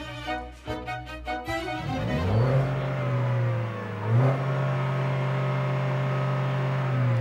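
A stationary car's engine is cranked with a few short starter bursts, then catches and revs up into a loud, steady, close drone with a brief surge midway.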